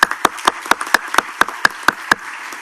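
An audience applauds a departing panelist at a forum session, with sparse, sharp, distinct claps from a small group ringing out in a loose rhythm, loud and close.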